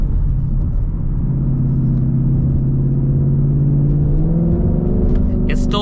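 A Ford Mustang GT with a 10-speed automatic cruises along, its engine a steady low drone and rumble with a rising pitch near the end, close and continuous throughout.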